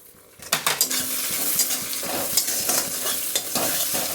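Ground cumin, coriander and fennel, dry-roasted beforehand, sizzle in a pan while a spoon scrapes and clinks against the metal in a steady stirring rhythm, close and fairly loud, no talking.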